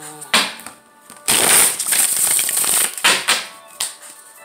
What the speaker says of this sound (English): Let me just do a quick 3-card spread for the outcome here